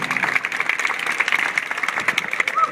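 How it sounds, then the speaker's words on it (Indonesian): An audience claps at an anti-corruption arts event in a steady, dense round of applause that lasts the whole stretch. "Tepuk tangan sekali lagi untuk Mr. Prianto."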